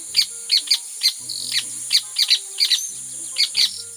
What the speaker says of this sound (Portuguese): Quem é que nunca viu um João de Barro enfurecido assim, vocalizando na presença de um gavião?